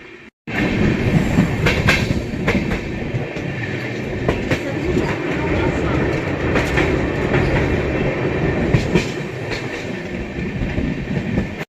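An empty Amrit Bharat Express on its inaugural Howrah to Anand Vihar run, rolling at good speed through light fog: a loud, steady rumble with rhythmic clickety-clack of the wheels throughout and no voices.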